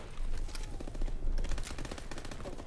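Rapid machine-gun fire from Call of Duty Advanced Warfare, loud, dense and close, with bursts of shots rattling continuously.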